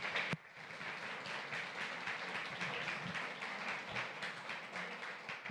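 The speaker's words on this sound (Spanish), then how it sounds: "Démosle un aplauso al Señor" A church congregation keeps up sustained, dense applause through the whole stretch, steady and moderately loud, with a single sharp knock near the start and no clear talking.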